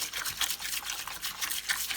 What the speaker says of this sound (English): So I'm just going to scrub these